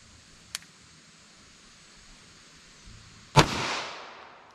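Single 9mm shot from a 5-inch M&P pistol, a sharp loud crack followed by a long fading echo, heard alone after an earlier faint click.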